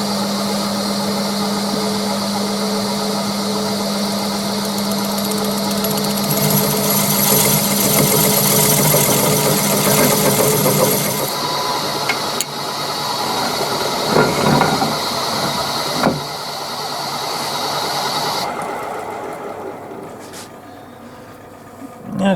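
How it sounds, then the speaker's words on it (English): A drill bores deeper into a firewood log being made into a vase, a steady loud whirring motor that cuts out partway, followed by quieter handling noises. "I'm going to drill out some more,"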